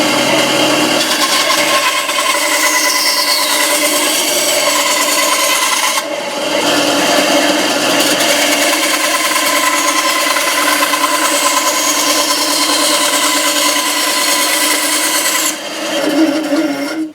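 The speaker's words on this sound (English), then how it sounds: "I'm just going to take the bandsaw and kind of rough in a handle." A bandsaw cuts wood to rough out a handle for a leather knife-sharpening strop, a loud continuous rasping whine with brief breaks around six and fifteen seconds before the cut resumes.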